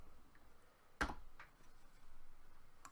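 Keys tapped on a computer keyboard: one sharp, close press stands out, followed by a few fainter scattered clicks in a quiet room, with no talking.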